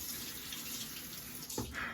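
Water runs steadily from a tap into a sink while shaving soap is loaded with a boar brush, a close, continuous splashing flow with a brief knock near the end.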